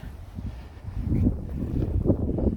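Outdoor wind buffets the microphone beside a Ferrari Portofino being detailed, a loud, rumbling, uneven gusting that swells and eases throughout with no voices.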